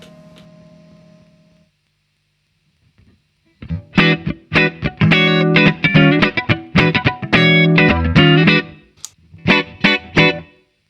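An electric guitar plays warm, slightly overdriven chords and riffs through a vintage Fender tube amp with tube-driven reverb, in bursts with short pauses, preceded by a quiet hum.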